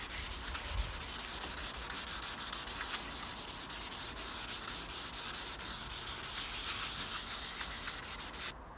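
Steady hand sanding of a collision-damaged car bumper with 600 grit paper outdoors on a windy day, a continuous rasping rub lasting throughout, close and fairly loud with no talk.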